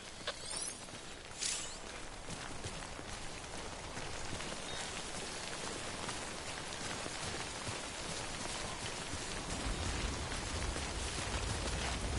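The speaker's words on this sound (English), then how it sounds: "Don't stay out in the rain any longer than you have to." Steady timefall rain in the video game Death Stranding patters densely on surfaces as a constant moderate wash, with a few brief brighter ticks near the start and no voices.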